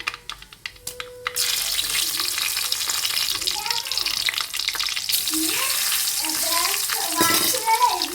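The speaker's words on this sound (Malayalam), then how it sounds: "വെളിച്ചെണ്ണ നല്ലതുപോലെ ചൂടായതിന് ശേഷം നമ്മൾ കുറച്ച് കടുക് അങ്ങോട്ടിട്ട് കൊടുക്കാം കടുക് പൊട്ടി വരുമ്പോൾ" Mustard seeds dropped into hot coconut oil set off a sudden loud burst of sizzling after a few light clicks, then keep crackling and spluttering up close, with a voice heard briefly.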